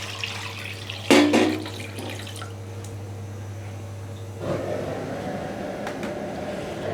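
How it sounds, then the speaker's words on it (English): Water pours from a faucet into a pot, a brief splash followed by a steady running rush, close by, over a low background hum. "And we add water, 250 ml also."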